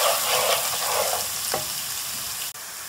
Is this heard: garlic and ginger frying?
yes